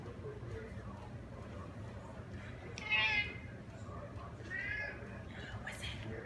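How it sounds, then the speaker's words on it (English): A house cat gives two soft meows, one near the middle and a fainter one just after, over low background rumble, while a person murmurs nearby. "There's the cat."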